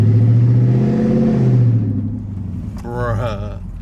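A Lexus SC400 with an aftermarket exhaust revs up and settles back, its deep, loud engine note rising and falling close by before a voice speaks briefly at the end.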